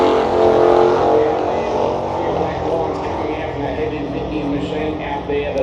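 A Chevy drag car runs down a dragway at a street meet, its engine a steady loud roar that carries throughout under an announcer's commentary.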